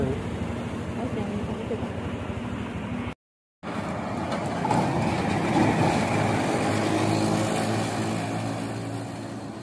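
A heavy truck rumbles past on a road at Salagedang, Garut, Indonesia, loud and close, its engine noise swelling after a brief dropout and holding steady to the end.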